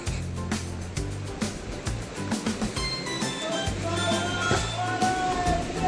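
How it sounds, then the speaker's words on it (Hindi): The Saraswati river near Mana village in the Himalayan hills roars in a steady, loud rush of turbulent water, with someone talking over it. "बराबर से बह रही है सरस्वती नदी, जो कि बहुत भयंकर आवाज़ कर रही है।"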